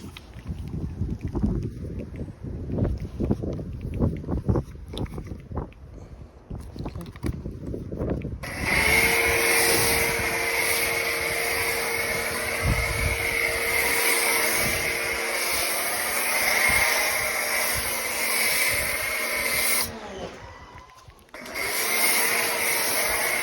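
A pressure washer drives a Z-013 Tornador foam cannon, its steady broadband hiss and spray rushing close and loud with a tonal motor whine beneath, running continuously for about eleven seconds before cutting briefly and starting again.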